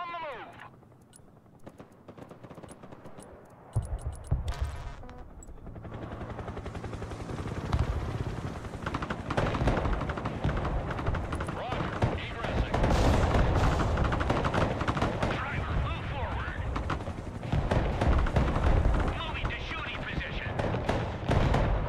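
Battle sounds from the Broken Arrow military strategy game: dense, loud artillery and rocket barrages with rattling gunfire and booming impacts, continuous over about twenty seconds, with radio-style voice lines mixed in.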